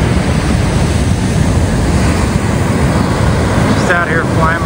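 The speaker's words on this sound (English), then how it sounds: "There's the ocean." Ocean surf rolls onto the shore at Oxnard State Beach at sunrise in a steady, loud wash with wind buffeting the microphone, and faint tonal sounds toward the end.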